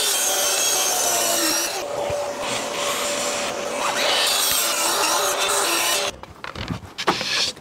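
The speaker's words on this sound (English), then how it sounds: "Is he sanding these down?" Wooden slats for a designer slat wall being sanded, a steady loud abrasive rasp with a mechanical whine running for several seconds, then breaking into uneven scrapes and knocks near the end.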